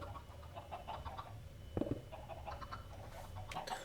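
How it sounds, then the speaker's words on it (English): Video game chickens cluck and chirp faintly in short scattered bursts over a steady low background hum. "I kind of feel like that's enough chickens"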